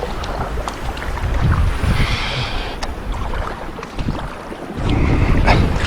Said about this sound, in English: Beautiful following wind and swells heading in exactly the same direction that we want to go.